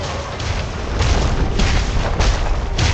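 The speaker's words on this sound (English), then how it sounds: "Your team has destroyed a turret." A turret is destroyed in League of Legends, a series of deep rumbling booms and crashing bursts rolling in quick succession, loud and heavy throughout, with a game announcer voice nearby.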